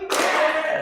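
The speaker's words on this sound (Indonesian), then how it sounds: "tepuk 1 kali" A single loud, close hand clap with a bright, sharp onset rings briefly in a room.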